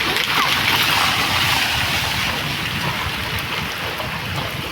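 Steady rain pours down over a village, a loud, continuous broadband hiss of drops hitting surfaces that stays constant from start to finish with no pauses.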